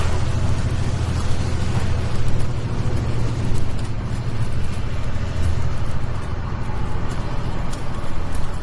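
Road traffic rolls past on a street in Sitka, Alaska, with snow piled along the roadside: a steady, continuous broadband rumble and hiss of passing vehicles, fairly close, with no talking.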